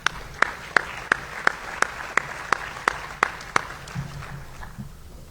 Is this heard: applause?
yes